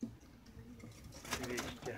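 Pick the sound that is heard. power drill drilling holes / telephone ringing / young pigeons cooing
young pigeons cooing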